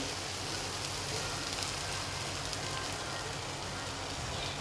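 Cashew paste added to masala gravy for paneer masala sizzles and crackles steadily in a pan over low heat, a constant close, hissing frying noise with no breaks.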